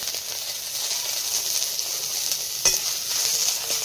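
Whole cardamom, cinnamon, bay leaf and garlic cloves sizzle steadily in hot oil for a home-cooked duck curry, a continuous close frying hiss with a brief clatter partway through.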